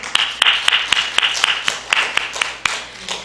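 Church congregation clapping in praise during a Salvation Army Sunday service, a run of sharp, fairly loud claps in a loose rhythm of roughly one every quarter second, close by.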